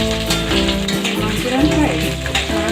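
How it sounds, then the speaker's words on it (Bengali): Cubed potatoes fry in oil with a loud, close, steady sizzle and crackle, and stirring scrapes through the pan. "সেটা আমি কিউব করে কেটে রেখেছি, এগুলো দিয়ে দিলাম। আমি একটু ভেজে নেব।"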